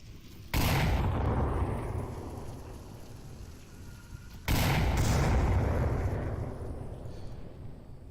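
Two big grenade blasts in the VR shooter Onward, each a sudden loud boom with a long rumbling, hissing decay, about four seconds apart and with no voices over them.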